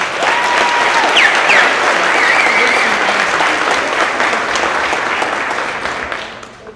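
A crowd applauds loudly and steadily with a few whistles and cheers mixed in, the clapping tapering off at the very end.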